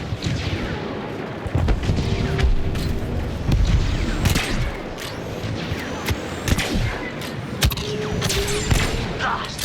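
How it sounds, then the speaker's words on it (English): Rapid blaster gunfire and booming explosions from a Star Wars Battlefront II multiplayer battle, dense overlapping bursts and sharp shots that keep going throughout at a loud, close level. "Can't even see who I'm shooting. I'm just firing back there."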